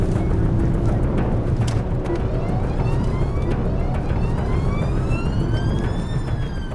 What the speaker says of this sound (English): blue light, sirens on